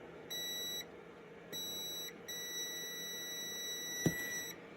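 A multimeter gives continuity beeps while testing a battery lead: two short, faint high-pitched tones, then a longer sustained one, over a quiet room.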